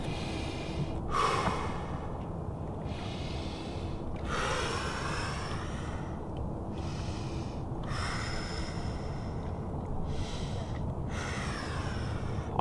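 Slow, deep breaths during a lower-body stretch for climbers, each long inhale and exhale audible up close in a quiet room, about five cycles with pauses between them.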